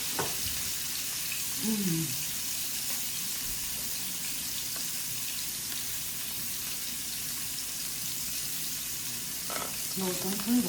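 Dumplings fry in a hot pan with a steady, quiet hiss of sizzling oil, punctuated by a few brief tonal clinks and scrapes.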